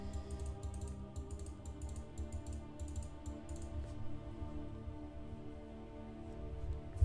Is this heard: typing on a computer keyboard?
yes